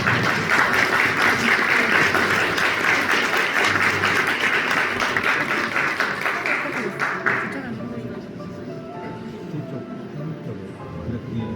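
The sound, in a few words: wedding guests applauding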